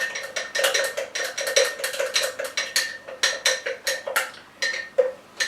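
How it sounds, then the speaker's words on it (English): A long utensil stirs sourdough starter in a jar, with rapid rhythmic scraping and clinking against the glass in quick repeated bursts, close and fairly loud. "So just give it a really good stir."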